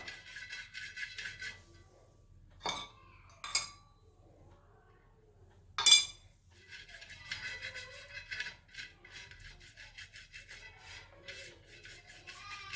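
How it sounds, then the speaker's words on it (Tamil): A brush scrubs an iron dosa pan with a little cleanser, making rhythmic scraping strokes in bursts with pauses and a few sharp metallic knocks, fairly close, with no one talking. "கொஞ்சமாக சேர்த்து நம்ம இந்த மாதிரி ஃபுல்லாக ப்ரஷ் பண்ணிடலாம்."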